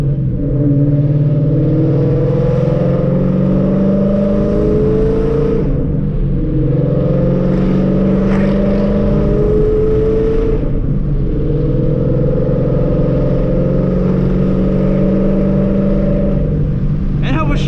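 An S197 Ford Mustang engine revs in rising and falling sweeps, dropping between downshifts, loud and close, with voices now and then beneath it.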